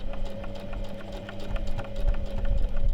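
Sewing machine stitching a robe tie with a 1 cm seam, running in a fast, even mechanical patter with a steady motor hum, moderately quiet and close.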